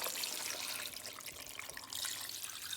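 Water is poured into a soup pot holding chicken and provision, a soft, steady splashing trickle that runs for a couple of seconds without any voices.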